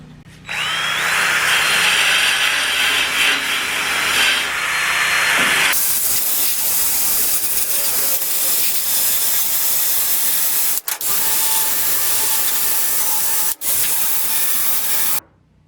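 A small metal grinding wheel grinds old caulking off an RV bed frame, a loud continuous close whine and hiss that shifts tone partway through and drops out twice briefly before stopping.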